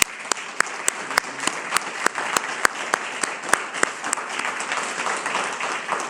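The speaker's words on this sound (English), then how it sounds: "applause right now." At a Marine gunnery sergeant's retirement ceremony, a crowd applauds service members with a sustained round of clapping in a roomy hall, sharp individual claps standing out near the front.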